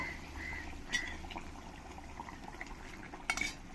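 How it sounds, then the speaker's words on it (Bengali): Boiled, fried eggs go into simmering curry gravy in a pan, giving soft bubbling with a couple of sharp clinks of a utensil against the pan. "এবার আমি এর মধ্যে দিয়ে দেব আমি যে ডিমগুলো সেদ্ধ করে ভেজে নিয়েছি এই ডিমগুলো সব দিয়ে দেব"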